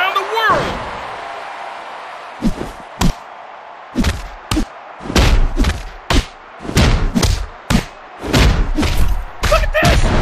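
A heavy slam thuds out in the WWE Mayhem wrestling video game as a buckle bomb lands, one of a string of sharp, loud impacts and thumps running through the scene alongside an excited commentator's voice.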